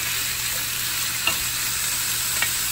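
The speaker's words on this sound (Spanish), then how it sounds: "Después de 2 minutos que ya calentó el aceite, voy a agregar la carne" Beef frying in hot oil in a pot, a steady close sizzle and hiss with a couple of faint pops or utensil taps, no speech.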